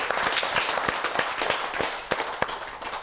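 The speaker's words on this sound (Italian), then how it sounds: "Adesso devono fare l'applauso al direttore generale della DAC" An audience applauds a general director at an event with a dense, steady patter of hand claps and a few sharper, louder claps standing out. The clapping is moderately close and carries no voices.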